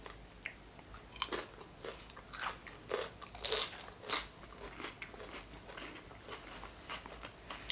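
Nachos being eaten up close, with a series of sharp, irregular crunches and bites over quiet background, several louder crackling bursts clustered in the middle and no talking.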